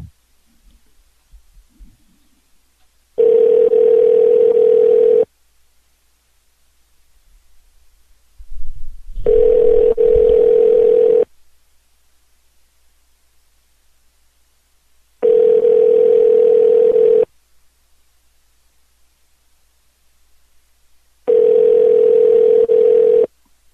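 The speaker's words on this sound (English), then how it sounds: "It's dialing." A telephone tone sounds in four loud, steady pulses of about two seconds each, separated by longer silent gaps, as a call goes through, with faint low rustling in between.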